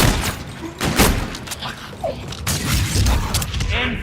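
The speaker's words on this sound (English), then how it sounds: "Infinite grenades!" Grenades exploding in a zombies shooter game: repeated dull booms and thuds with mechanical clatter, several blasts spread across a few seconds, loud and close.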